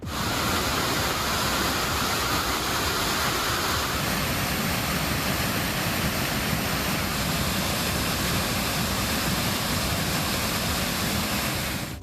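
The Kumbakkarai waterfall is in flood after heavy rain, giving a constant, powerful roar of rushing water that stays loud and unbroken throughout, with no voices.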